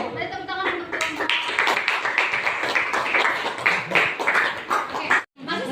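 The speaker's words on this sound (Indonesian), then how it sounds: "Mari tepuk tangan untuk teman-teman" Classroom children clapping for their classmates, a dense burst of many small hands for about five seconds that cuts off briefly near the end, with a few voices mixed in.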